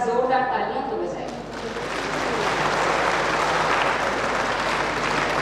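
A crowd breaks into loud, sustained applause at a government ceremony launching the Viksit Bharat Sankalp Yatra with the chief minister. It follows a brief spoken phrase, then a dense, steady wall of clapping fills the rest.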